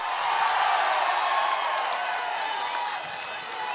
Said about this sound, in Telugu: సిద్ధమైతే గట్టిగా చప్పట్లు కొట్టండి.